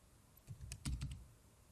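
Quick run of keystrokes on a computer keyboard as an FTP password is entered, about a dozen close, crisp clicks clustered in a brief burst, then quiet.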